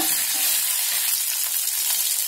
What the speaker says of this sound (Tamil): அதோட வரமிளகாய், பச்சை மிளகாய் இதையும் லேசாக வறுத்துக்கோங்க